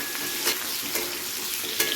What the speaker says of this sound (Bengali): এটাকে ভালো করে একটু ভেজে নেবো সবজির সাথে, যাতে আদার কাঁচা গন্ধটা চলে যায়